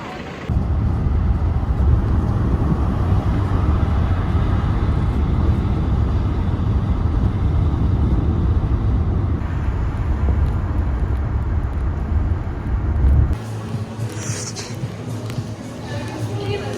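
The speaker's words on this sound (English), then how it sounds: "there's like literally a bus like" A bus passes on a Seoul street, its loud broadband engine and road rumble running steadily for about thirteen seconds before falling away into quieter street ambience.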